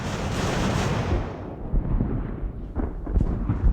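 Six- and eight-pounder cannons firing in Ultimate Admiral: Age of Sail while holding a peninsula: a heavy, rumbling roar fades out, followed by several dull, thudding booms at irregular intervals, with no talking.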